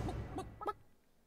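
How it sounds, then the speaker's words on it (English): Chickens cluck in short bursts in the RagnarockVR lobby, a few quiet clucks at moderate distance, then fading to near silence. "Listen to the chickens."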